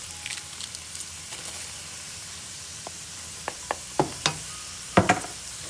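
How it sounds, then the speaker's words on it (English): Garlic sizzling in a pot for chili and beans, stirred with a few sharp scrapes and clacks of the spoon toward the end over a steady low frying hiss. "We're gonna give that a really good stir."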